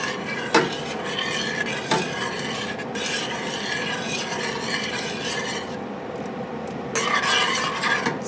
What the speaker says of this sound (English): We're going to mix it all together and let that simmer for a while.